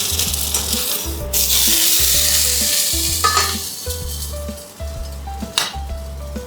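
Bread sizzling and frying in a drizzle of olive oil in a pan for a quick breakfast loaf, a steady loud hiss broken by scraping and stirring against the pan, no voices.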